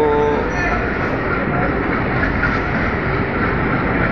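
A diesel locomotive hauling a train through a station on the Howrah–Mumbai Gitanjali Express route, a loud, steady rumble and rolling clatter lasting throughout, with faint voices in the background.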